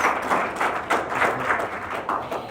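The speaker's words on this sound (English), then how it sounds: "a round of applause" Brief, modest round of applause from a small group, with claps pulsing in a loose rhythm and rising and falling over a couple of seconds.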